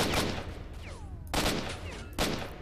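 Gunfire in the video game STALKER: Shadow of Chernobyl during a military attack on stalkers: three loud, sharp shots in a quick sequence, each with a ringing tail.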